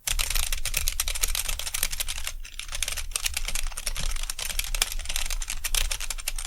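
Rapid, continuous tapping on a computer keyboard, close and busy, with brief pauses between bursts of keystrokes while writing Arduino code.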